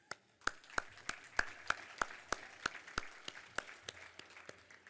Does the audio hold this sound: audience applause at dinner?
yes